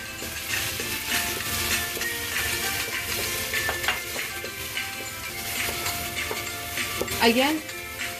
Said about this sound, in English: Now it's stirring time again, so saute till the oil separates.